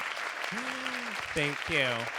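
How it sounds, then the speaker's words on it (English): Audience applause at a museum history café talk, a steady broad wash of clapping continuing under a voice that speaks briefly near the end. "Let's give another round of applause."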